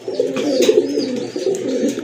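A pair of Andalusian-coloured Gola pigeons coo in a steady, rolling low murmur, close and fairly loud, with faint chirps behind.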